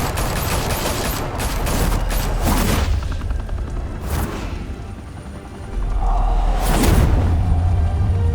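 Gunfire from a Batman: The Telltale Series video game: loud bursts of shots and booms with whooshes, coming in several dense clusters over a sustained rumbling background, with no talking.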